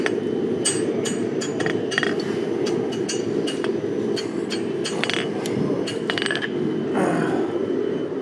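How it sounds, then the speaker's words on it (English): A blacksmith strikes with the peen of a hammer at the outer edge of an anvil to draw out a square corner during a forging demonstration. Sharp metallic taps ring out in an irregular series over steady loud background noise. "come out here to the outer edge of the anvil and use the peen of the hammer to draw that corner out"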